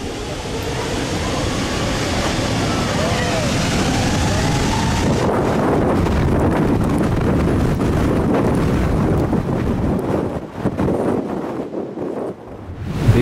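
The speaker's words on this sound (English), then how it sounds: "These people standing too close to an Airbus A320 taking off from Sky Athos," An Airbus A320 taking off from Skiathos, Greece, heard from people standing very close: a loud, sustained broadband jet roar mixed with heavy wind buffeting, which breaks up and fades slightly toward the end.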